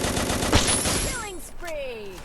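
Dense gunfire from a shooting video game rattles continuously, then fades into whistling, sliding tones as the shots die away; voices can be heard faintly underneath.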